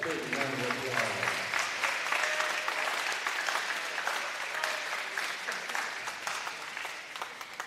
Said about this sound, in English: Let's give Jaquez Lovelace a big round of applause.